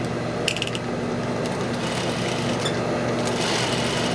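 A sewing machine runs steadily throughout, stitching a diagonal line across the point of a shirt collar, with a continuous mechanical whir and a faint ratcheting texture at close range and no talking.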